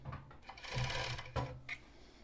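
A sewing machine stitching elastic onto the lining of a basic strappy tank top, a short close mechanical whir with a couple of quick clunks, fairly quiet.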